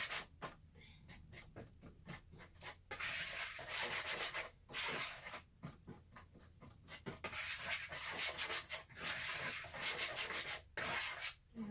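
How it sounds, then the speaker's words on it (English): A whisk scrapes and swishes through a brown sugar mixture in a bowl, giving quiet, rapid rhythmic rubbing strokes with short pauses, close up and faint. "Whisk that together."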